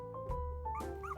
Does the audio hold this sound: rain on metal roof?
no